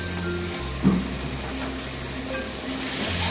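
Spices and green chilli paste, with garlic, sizzle gently in a pan, a low steady frying hiss with a single clink of a utensil early on.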